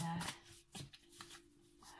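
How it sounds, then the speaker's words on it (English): Tarot cards shuffled by hand in a quiet room, with repeated soft riffling and slapping bursts close to the microphone, under a faint steady hum. "I'm going to just stop looking at the camera and just concentrate on shuffling"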